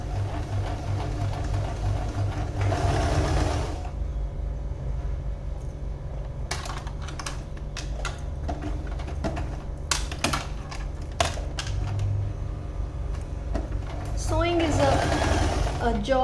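A sewing machine stitches a neckline slit in short, rapid runs of mechanical whirring and clicking, close by, separated by pauses with a steady background hum.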